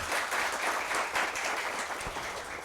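Warm audience applause at a televised school quiz match, a dense, loud, even wash of clapping from a crowd that runs steadily and cuts off abruptly at the end.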